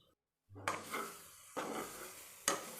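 Green mango roasting in a pan is stirred with a utensil, three distinct scraping strokes close by over a soft sizzle, each stroke beginning with a sharp knock against the pan.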